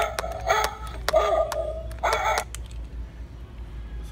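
A two-headed dog Halloween decoration gives electronic barks in quick bursts, a few yaps close together and then another cluster, over a low steady background hum.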